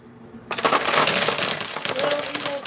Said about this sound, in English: just hear the coins